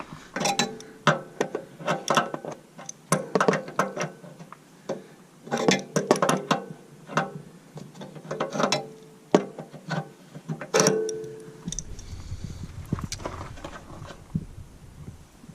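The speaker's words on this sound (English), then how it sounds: "Manipulating the wrench in here, eventually the little petcock lever fell off." Metal wrench clicks and knocks against a petcock drain valve inside an Arctic Fox truck camper, irregular close taps in uneven bursts, ending with a short rattle as a small lever comes loose.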